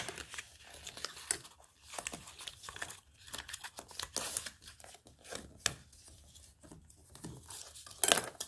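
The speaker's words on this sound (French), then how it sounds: "Donc, on marque les plis." Paper being creased into folds for a handmade advent calendar, a run of close, crisp crinkling and scraping strokes with sharp snaps, steady throughout with a louder burst near the end.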